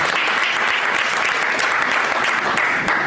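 Dense, sustained applause from a crowd at a Philadelphia chapter meeting of the New Black Panther Party, loud and close throughout with no pause.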